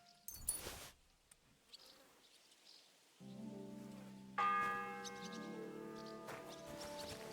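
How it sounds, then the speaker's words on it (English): A church bell in a medieval role-playing game strikes with a deep, ringing toll that hangs and layers into a second, brighter strike, heard after a few soft footsteps and rustles, with no talking. "The first bell."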